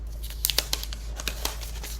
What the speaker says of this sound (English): Go ahead and put this back and unwrap the battery pack itself.